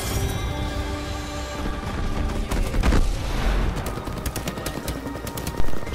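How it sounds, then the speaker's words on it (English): Gunfire from a 3v3 Apex Legends match, with a dense run of shots and impacts layered over steady game sound, peaking in a sharp burst near the end. "I'm taking fire."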